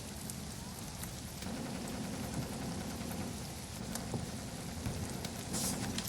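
Steady rain falls through a dark horror game set around an abandoned house, a dense continuous hiss with low rumbling underneath that thickens after the first second and stays even throughout.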